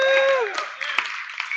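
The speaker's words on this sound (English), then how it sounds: "Everyone clap." Audience at an evening tech meetup claps and cheers on cue, with a whooping voice rising over scattered, uneven clapping throughout.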